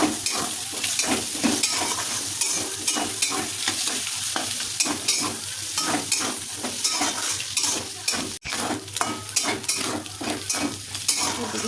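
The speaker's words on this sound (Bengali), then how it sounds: "এবার আমি আলুটাকে ভালো করে নাড়িয়ে দেবো" Egg and potato frying and being stirred in a pan: close, loud sizzling with repeated rhythmic scrapes of the spatula against the pan and a brief break near the end. No one speaks.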